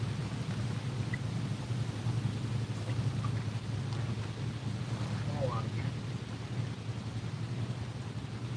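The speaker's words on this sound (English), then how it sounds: "about an 8 or 10 mile per hour wind today." Steady outdoor wind of about 8 to 10 mph at a hot lakeside carp fishing spot, a constant low rumble and buffeting against the microphone throughout, with faint distant bird calls on top.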